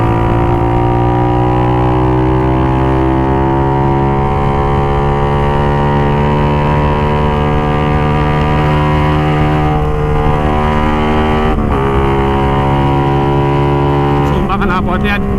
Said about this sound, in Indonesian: Knalpotnya tarikan awal sampai akhir itu ngebas banget, enak, bikin ngegas terus.